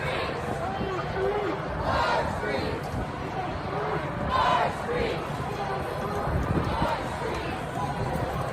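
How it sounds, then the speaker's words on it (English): Large crowd of protesters at an outdoor street protest in Philadelphia, a continuous roar of many voices and chatter with swelling shouts, fairly loud and close throughout. "this is a crowd of protesters in Philadelphia"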